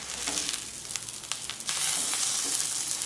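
Pav buns toasting on a hot pan sizzle steadily and loudly throughout, with soft crackles and spatters.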